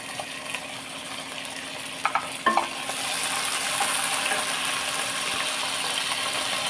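Potato and cauliflower pieces being stirred in a pot of frying vegetable biryani base, with a steady sizzle throughout and a few louder scraping stirs near the middle, no talking.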